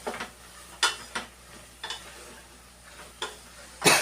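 Brinjal pieces, presoaked in salt water, stirred in a frying pan for a tomato fry curry, giving several sharp scraping clatters of the spoon against the pan over a soft steady sizzle.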